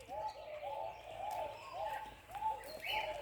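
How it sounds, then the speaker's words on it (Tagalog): Wild pigeons coo softly in a park in Tamworth, several repeated rolling coos at moderate distance, faint overall, with scattered chirps from other birds in the background. "Ayan po yung mga wild pigeon."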